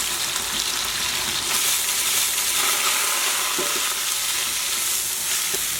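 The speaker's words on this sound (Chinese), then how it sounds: "开始炒酸菜馅儿，油热后放入葱花蒜末" Pickled cabbage (suerkraut-style) filling with chopped scallion, garlic and mustard stir-frying in plenty of hot oil, a steady close broadband sizzle throughout with faint scraping of the spatula and no talk.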